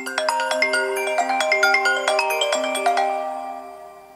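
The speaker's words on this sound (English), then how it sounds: "the iPhone X also gets an exclusive default ringtone called Reflection" Apple iPhone X default ringtone Reflection plays loud and clear: a bright, rapid sequence of chiming melodic notes that rings out alone and fades toward the end.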